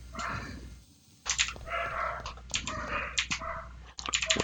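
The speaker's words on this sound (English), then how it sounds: "Can you hear those dogs?" Dogs barking from downstairs, a run of sharp, fairly faint barks in irregular bursts with short pauses between them.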